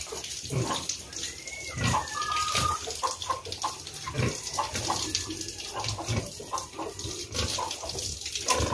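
Water running weakly from a tap on a pig farm, a continuous low splashing trickle with scattered clatter and faint animal noises in the background.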